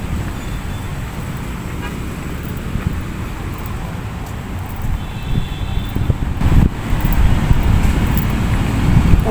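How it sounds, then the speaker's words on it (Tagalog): Wind buffets the microphone outdoors at Filinvest City, Alabang, in a steady low rumble, growing gustier toward the end, with faint traffic in the distance. "Ang sarap ng simoy ng hangin."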